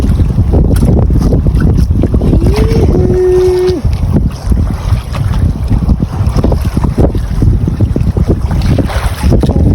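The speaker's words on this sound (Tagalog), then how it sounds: "Ratsada na ang amihan." Strong northeast monsoon wind roars across the open sea around a fishing boat off Tabaco, Bicol, a constant loud buffeting rush with a brief whistling tone early on and no voices.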